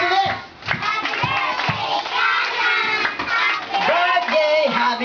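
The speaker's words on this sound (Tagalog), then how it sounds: "pangalawa may kasamang palakpak" Children and adults at a sixth birthday party clap steadily together while loud crowd voices and shouting carry on throughout.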